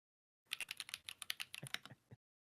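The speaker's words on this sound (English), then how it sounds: "I thought that was a typing soundbite" Quick bursts of computer keyboard typing, a run of sharp clicking keystrokes over about two seconds, close and fairly quiet, with no talking.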